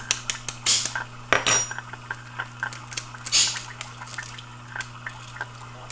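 A spoon taps and scrapes against the shell of a serama pheasant egg, giving close, light clicks and crackles in an uneven rhythm, with a few brief rustling bursts between them and a faint steady hum underneath.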